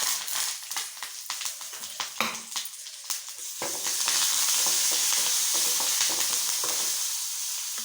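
Mustard seeds, garlic, dried red chillies and curry leaves crackle and sizzle in hot oil as a tempering for tamarind pickle chutney. Stirring scrapes come first, then a loud, continuous frying hiss, with no talking.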